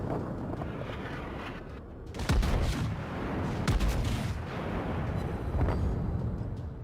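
Warship main guns fire in World of Warships as a New York battleship engages a Farragut destroyer, heavy booming salvos in a few bursts over a constant rumbling battle ambience.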